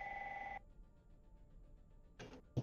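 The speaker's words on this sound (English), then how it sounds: "Someone's calling their house phone at 11:30 at night." A house telephone rings late at night with a single electronic ring burst that cuts off, followed by quiet room noise and a couple of faint knocks, at low level.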